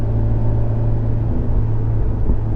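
A Fiat 124 Spider engine under a gentle on-throttle roll-on, heard from inside the car as a steady, loud low rumble with a mild rise in pitch and no voices.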